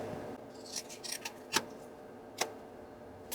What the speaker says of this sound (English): We're going to be trimming this right here, opening up that pocket.